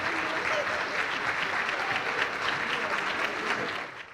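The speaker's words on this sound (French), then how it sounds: "il faut les applaudir, les acteurs" An audience applauds the actors after a mock trial staged at a law fair. The dense, even clapping runs steadily for about four seconds, with a faint voice underneath, before it tapers off.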